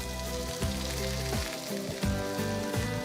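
Vegetables poured into a hot pan sizzle loudly, with a steady crackling fry and a few sharp clattering thuds as pieces land, close and alone without talk.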